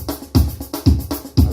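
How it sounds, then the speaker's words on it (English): Punchy kick drum from a Yamaha PSR keyboard rhythm with boosted punch, thumping four times in a steady beat, loud and close, with snare-like hits between the kicks and no talking. "I put the punch on the kick, which is in the rhythm 2."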